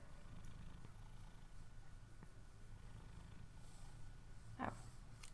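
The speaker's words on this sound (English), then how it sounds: "Can you hear her purr?" A cat purring softly and steadily during an indoor session under bright lights, a faint, low continuous rumble with a brief louder sound near the end.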